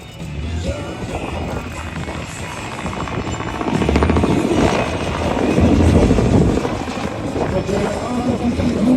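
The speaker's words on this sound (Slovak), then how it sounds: "Tak dozadu lieta iba vrtuľník." A helicopter flies nearby at an air show, its rotor thudding in a steady throbbing roar that swells louder midway, with no talking.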